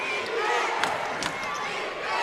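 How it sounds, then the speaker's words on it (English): A college basketball crowd cheers and chants defense in the arena, a dense, continuous roar of many voices with a couple of brief sharp thuds within it. "As the crowd gets into it, chanting defense"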